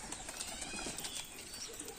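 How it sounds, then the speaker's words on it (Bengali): Domestic pigeons, mostly Giribaz, gathered at feeding, giving soft coos and brief wing flutters at moderate distance over a steady low background hiss. "এই যে সব পায়রাগুলো এখানেও আছে সব, এগুলো বেশিরভাগই গিরিবাজ আছে"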